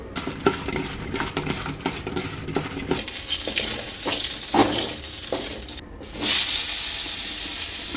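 Chopped onions and potatoes being rinsed under running water in a kitchen, with steady splashing from the tap, clinks of a bowl or utensil, and a louder gush of water near the end.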